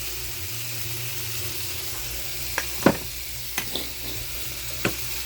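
Tuna seasoned with pepper and salt is stirred in a pan, a steady low sizzle broken by a few sharp scrapes and clicks of the utensil against the pan, close and without talk.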